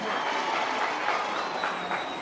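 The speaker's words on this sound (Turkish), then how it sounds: "Hayırlı kullansın gelin hanım alkışlar gelsin." Guests at a Turkish wedding applaud the bride during the gift presentation, a dense, steady wash of clapping from a crowd heard at moderate distance, with faint voices murmuring underneath.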